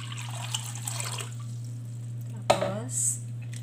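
Tap water is poured into a bowl as a salad is prepared, a splashing burst with a bright drip-like ring, heard close up over a steady electrical hum with faint talk earlier.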